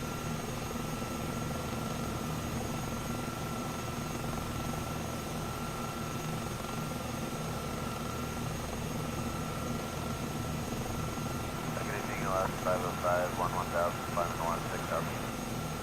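A helicopter in Microsoft Flight Simulator drones steadily throughout a sightseeing flight around Los Angeles, a constant engine and rotor roar with a brief tonal chirping layered over it toward the end.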